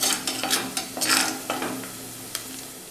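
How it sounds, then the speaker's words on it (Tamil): Onion and about ten garlic cloves sauté in a pan for a Tamil puli kuzhambu, with a soft sizzle under repeated scraping strokes of a spoon stirring the mix. "இப்போ பாருங்க, உள்ளியும் பூண்டும் நல்லா வதங்கிடுச்சு"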